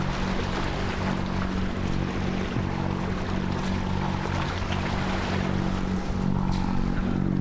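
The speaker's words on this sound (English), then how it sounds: "So we're running on one engine right now to try and conserve." An offshore sailboat motors at sea on one engine, giving a steady low droning hum mixed with wind and wash of waves against the hull, with no talking.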